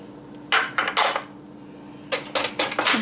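Dry cornmeal, sugar and salt are stirred in a bowl, with two bursts of sharp scraping and clinking of a utensil against the bowl, separated by a short pause, close and clear.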